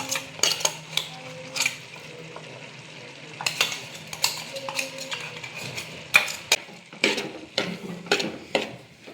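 A spoon works grated coconut and crushed chillies together in a pot, giving irregular scraping and clinking metal knocks with soft rustles between them, close up and with no talk.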